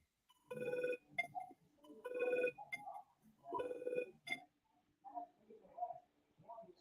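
A cell phone rings in repeated electronic bursts, three loud ringing phrases in the first half, then fainter ringtone notes trailing off near the end, fairly close.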